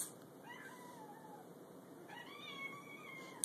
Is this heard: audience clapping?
no